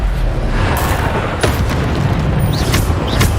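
Bombarda spell explosions from Hogwarts Legacy, a steady run of dense, loud booming blasts that overlap one another throughout, with a few brighter cracks breaking through the rumble.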